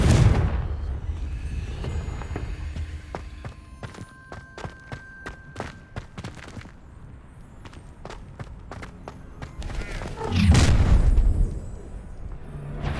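Confringo spell blasts in the video game Hogwarts Legacy, with a booming impact near the start and another heavy burst late on, separated by crackling hits and scattered sharp effects.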